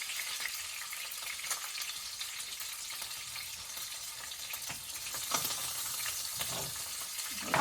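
Steak sears in a hot pan, giving a continuous close sizzle and crackle with small spits and pops throughout and no talking.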